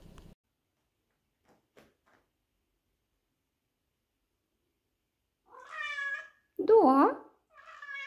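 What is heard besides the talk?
two cats meowing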